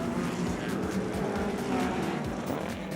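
Racing cars, a Lola T70 and a Cobra, roar loudly and continuously down the Corkscrew at a historic race, engines droning steadily with a dense mechanical rumble and no talk.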